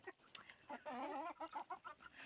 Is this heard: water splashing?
no